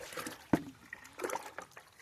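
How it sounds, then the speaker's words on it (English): A plant pot being watered gently with a solution while preparing a garden bed at season's end: a faint, soft trickle with one brief splash, then a quiet dribble. "we're going to gently water this pot"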